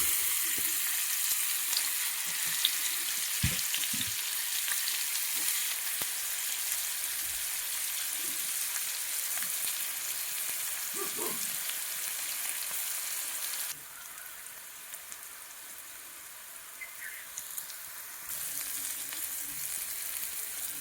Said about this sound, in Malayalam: പാൻ ചൂടായിട്ട് നമുക്ക് ഓയിൽ ഒഴിച്ചു കൊടുക്കാം ഇതിലേക്ക് താള് ഇട്ട് കൊടുക്കാം